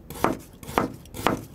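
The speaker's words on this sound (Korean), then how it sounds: "내가 썰어줄게." A kitchen knife chops an onion on a board in three evenly spaced, crisp thuds about half a second apart, close and fairly loud with no voices.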